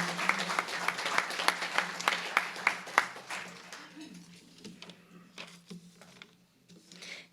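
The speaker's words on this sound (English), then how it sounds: "Please give him another round of applause for all the work he does." Audience applause for a speaker, rhythmic clapping that swells and then thins out over several seconds, fading into scattered claps and room murmur.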